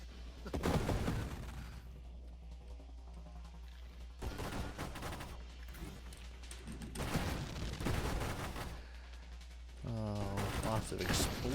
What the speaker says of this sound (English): Lots of exploding gems.